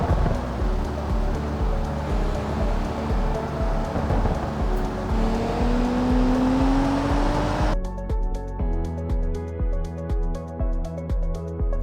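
A car drives around a racing circuit in a video game, a steady engine drone with shifting pitch that rises in one long sweep and then gives way to a thinner, clipped pulsing tone near the end.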